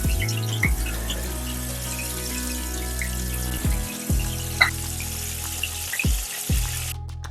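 Soaked chana dal is strained, with water pouring and draining in a steady splashing stream that swells and drops off in a few bursts.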